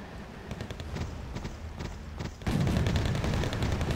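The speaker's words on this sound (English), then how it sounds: "As we drop bombs on this convoy." Bombs striking a convoy in Wargame: Airland Battle bring a run of crackling impacts, then a sudden louder, deeper rumbling burst of explosions that holds steady to the end; no talk.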